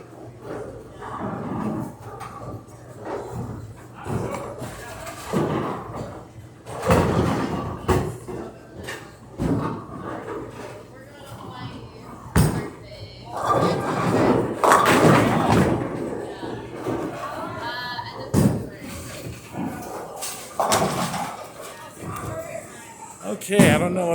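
A bowling ball rolls down the lane and crashes into the pins for a strike, with several loud thuds and clatters spread through the stretch, under frequent talk.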